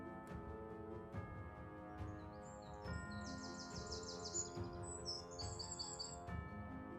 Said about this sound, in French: Bon, à part les oiseaux qu'on entend.